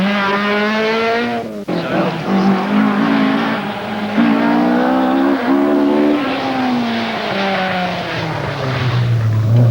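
A Ford Escort rally car races at the 1983 Donegal International rally, its engine loud and close, revving up through the gears with brief lifts between pulls before dropping to a lower drone at the end.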